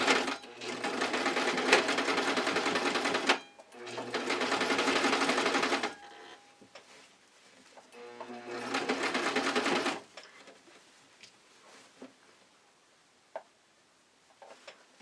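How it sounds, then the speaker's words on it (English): A sewing machine sews a full zigzag stitch on costume fabric, three sustained close runs of rapid whirring separated by pauses with faint clicks and handling noises. "I changed my zigzag to a full zigzag stitch where it just does smaller stitches"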